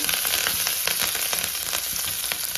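Curry leaves and green chillies crackle in hot oil with urad dal for semolina upma: a dense, steady sizzle with rapid popping throughout, close and fairly loud, with no voices.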